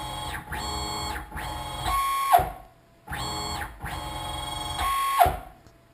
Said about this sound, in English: And you can hear the sound that I was getting out of the motor.